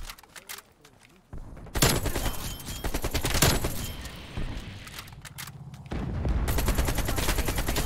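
Rapid gunfire from Black Ops Cold War, loud repeated bursts with dense rattling shots and explosive cracks in a multiplayer match, with game sound continuing throughout.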